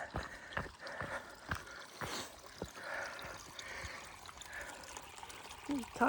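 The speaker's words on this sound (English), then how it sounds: "There's I think a little stream that we cross here." Small stream trickling over a tiny waterfall beside a hiking trail, a steady broadband wash of water with footsteps and light thumps crunching through it, and a voice briefly at the end.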